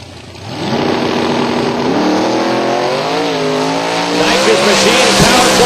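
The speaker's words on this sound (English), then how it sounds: "So here comes the Camaro." A nitrous-fed Chevrolet Camaro drag racing at Silver Dollar Raceway, its engine roaring loud and steady as it climbs through gears with rising and falling pitch sweeps, a dense sustained blast that fills the whole stretch.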